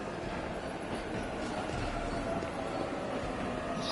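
A train in the video game 13 Sentinels rumbles steadily for about four seconds, a dense continuous clatter of rolling wheels and carriage noise heard alone, with no voices.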